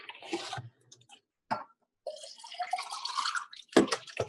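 Water poured in short uneven bursts, splashing and trickling close by with gaps of silence between pours and a brief sharp clatter near the end.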